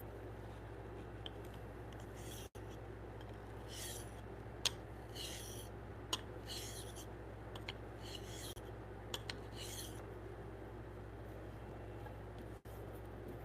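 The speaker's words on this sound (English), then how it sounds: "These chisels are getting nice and sharp, guys." Woodworking chisels are sharpened in a quiet shop, with soft, intermittent scraping and rubbing strokes over a low steady hum.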